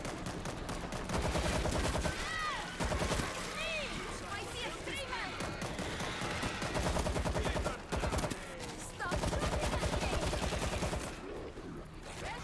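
Gunfire in World War Z co-op, aimed at a screamer zombie: sustained rapid automatic bursts with short breaks, dense and continuous, with distant shrieks and game noise underneath and no talk.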